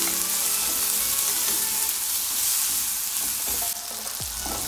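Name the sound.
spice tempering sizzling while stirred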